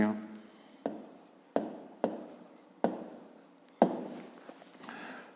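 A pen or pencil writes a math answer by hand on paper, a few distinct scratchy strokes and taps close by, quiet, with light rubbing between them and no talking.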